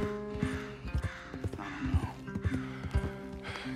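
Horses' hooves clip-clop in an uneven rhythm close by in the video game Red Dead Redemption 2, with snorts and harness noise over a steady background hum.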